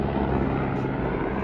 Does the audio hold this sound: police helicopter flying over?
yes